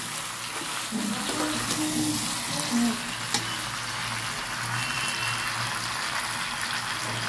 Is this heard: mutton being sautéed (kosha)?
yes